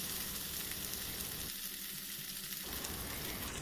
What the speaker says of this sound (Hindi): अब गैस जलाकर इनको हम हल्का भून लेंगे